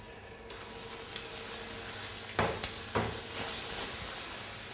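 Salmon with onion and pineapple sizzles steadily on a hot griddle, a continuous close hiss with a few sharper crackling bursts partway through and no talking.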